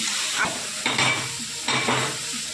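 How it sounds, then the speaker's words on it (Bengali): Grated carrots for gajar halwa fry in a pan with a close, steady sizzle and hiss, swelling in a few bursts as the shreds are turned. "গাজরটাকে ভালো করে ভাজতে হবে"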